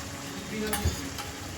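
Ground spice paste for khichuri is stir-fried in oil, producing a soft continuous sizzle broken by a brief scrape of a spoon against the pan.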